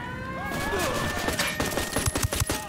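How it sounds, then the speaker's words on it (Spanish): Gunfire in the Ghost Recon Wildlands video game, shots coming from a bank, heard as a rapid, dense burst of loud shots with crashes and tonal game sounds, and a few louder individual cracks near the end. "disparos vienen del banco."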